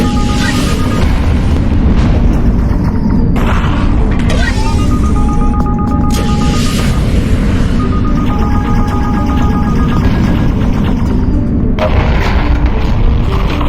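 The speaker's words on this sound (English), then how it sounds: "Pull the secondary fire trigger to fire a missile" Missile launches and explosions in the End Space VR space combat game, a loud continuous roar of booms and rumbling blasts with electronic tones and effects layered over it throughout.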